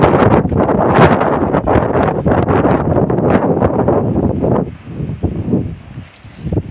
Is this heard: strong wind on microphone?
yes